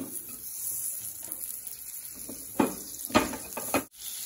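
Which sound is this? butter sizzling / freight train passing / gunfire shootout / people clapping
butter sizzling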